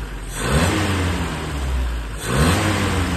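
A car engine being revved high, two strong rising revs that swell and fall back toward idle in quick succession, loud and close with no talk over it.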